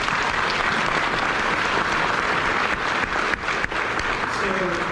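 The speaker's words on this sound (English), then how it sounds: "so please give them a round of applause." A live audience at a retro EPCOT 40 welcome gathering breaks into sustained, dense applause that stays loud and even for several seconds before thinning slightly at the end.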